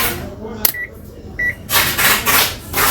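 A multimeter in continuity mode gives two short, high beeps while testing MOSFETs on a Dell Latitude 7410 motherboard, separated by probe clicks and followed by broadband handling noise.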